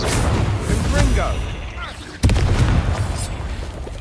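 Confringo fire spell bursts in Hogwarts Legacy gameplay, a booming blast followed by a second sharp explosive hit midway, loud and close amid combat noise.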